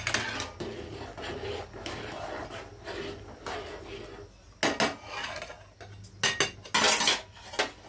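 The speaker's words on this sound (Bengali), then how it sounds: "ভাতটা একটু নাড়িয়ে দিই।" Cooked rice is stirred in a pot with a utensil, giving soft scraping and rubbing with occasional sharper metallic clinks against the pot, fairly quiet and close.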